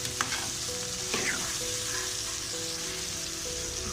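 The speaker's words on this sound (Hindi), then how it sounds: "इसको इसी तरह मिक्स करके फ्राई करेंगे।" Meat with green and red chillies and lemon fries in a pan while being stirred, making a steady, close sizzle with occasional scraping stirs and no talk.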